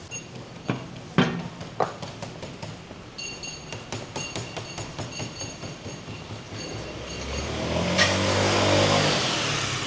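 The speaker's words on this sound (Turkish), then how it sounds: "Motosiklet kullanımı da yaygın burada." Motor vehicles passing along a street in Okinawa, with a rumbling engine swelling louder near the end as one rides close by, over scattered sharp clatters and background street noise.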